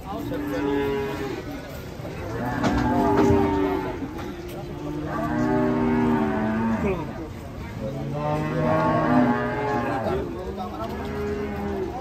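European-class cattle, one of them lame, moo in long, loud, drawn-out calls, three or four bellows close by.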